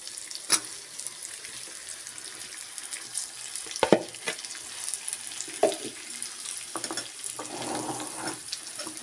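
Chicken pieces fry in a pan for an Assamese chicken curry, a low steady sizzle broken by sharp clinks and scraping stirs, fairly quiet and close with no talk.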